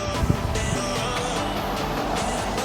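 The engine of a Polaris RZR with a chopped cage, bought at auction, runs at a steady loud idle close by, a constant mechanical drone with a slight sharper blip near the start.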